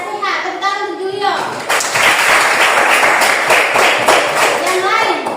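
Classroom applause from a primary school class, with a quick burst of many small hands clapping for a few seconds. A voice comes just before, and chatter continues under the clapping.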